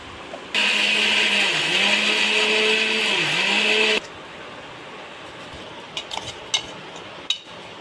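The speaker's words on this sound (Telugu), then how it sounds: "ఈ అటుకులు వేసాను ఫ్రెండ్స్ మిక్సీలో" A mixie grinder whirs loudly, crushing flattened rice with cardamom and jaggery, a steady motor drone with two short dips in pitch, then cuts off, leaving a few light clicks and taps.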